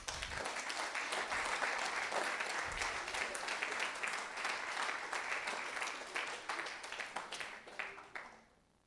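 A church congregation applauding together, a dense, steady wash of clapping that holds for most of the stretch and then fades out toward the end, with no voices over it.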